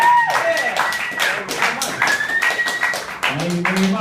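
Audience at a comedy show at O'Tools in Honolulu clapping and cheering for comedian Andrew Rivers, a dense close burst of hand claps with shouts, a voice briefly speaking over it.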